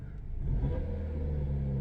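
A 2016 Dodge Dart engine revs through its exhaust, a deep continuous rumble that swells after a moment and holds steady, close and loud with no talking.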